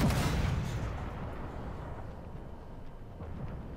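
A tank cannon fires in the video game Armored Warfare, a single loud booming blast at the start that decays into a long rumbling tail.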